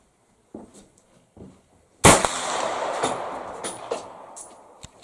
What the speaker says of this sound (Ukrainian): Стріляю.